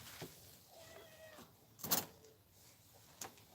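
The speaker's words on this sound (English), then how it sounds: "And the cat's at the door. Gotta let the cat in." A cat named Tiddles meows at a door to be let in, a few faint, drawn-out cries amid quiet room noise, with a couple of sharp door clunks nearby.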